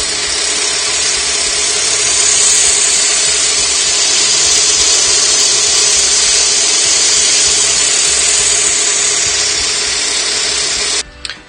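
A friction bowl sander cutting into wood on a spinning lathe, a loud, steady rough grinding whir that holds its tone throughout before cutting out abruptly at the end.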